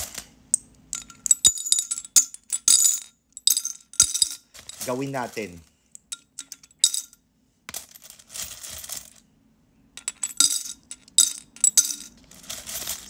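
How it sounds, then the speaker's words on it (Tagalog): Coins are dropped one after another into a glass bottle, giving sharp metallic clinks and rattling jingles in irregular bursts with short pauses, and someone speaks briefly in the middle. "Nilalagyan ko ng mga barya."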